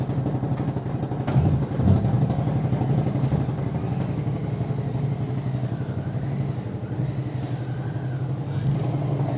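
A motorcycle nicknamed Beast runs at a steady idle, its deep continuous rumble holding close and loud throughout with a slight swell near the start.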